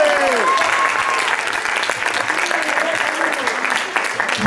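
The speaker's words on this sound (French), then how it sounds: "Et on va l'applaudir bien fort." An audience at a magic show during a charity telethon claps steadily and loudly for several seconds, a dense patter of hands with some voices mixed faintly underneath.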